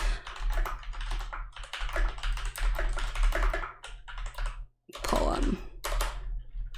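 Rapid, close-up typing on a computer keyboard, a dense run of clicking keystrokes with a brief pause before it resumes.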